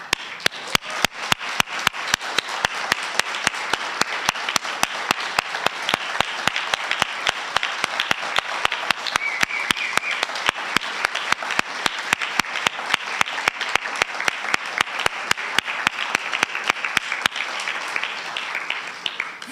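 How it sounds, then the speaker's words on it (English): A hall audience applauds volunteers standing up at a Romanian United Foundation event, a long, steady burst of clapping with sharp individual claps over a dense wash, holding loud and even for nearly twenty seconds. "I would like all the volunteers to stand up, and so we give them a big round of applause."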